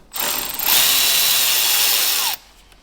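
A power tool whirs steadily for about two seconds, close and loud, as it removes heat shield bolts on a Ferrari F430, starting and stopping abruptly.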